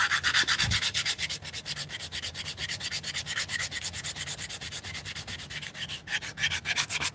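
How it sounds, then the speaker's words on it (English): Rapid, steady rasping strokes of sandpaper rubbing on shoes, loud and close, in an even back-and-forth rhythm with no voices. "Maybe one day I'll send her a little private video of me sanding my shoes"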